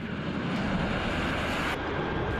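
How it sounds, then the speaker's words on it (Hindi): Chinese fighter jets fly over Taiwan, producing a steady, loud, broadband roar that holds unbroken throughout without any voices. "जिनपिंग के लड़ाकू विमानों की दहाड़ से ताइवान का आसमान पूरी तरह कांपने लगा।"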